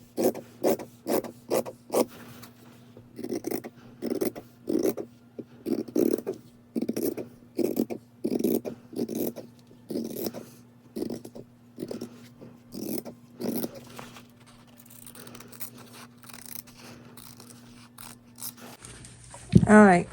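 Scissors snip through fabric and interfacing while a bag is cut out for sewing, with a quick run of close, crisp cuts, then slower spaced snips and softer rustling toward the end, under a steady low hum.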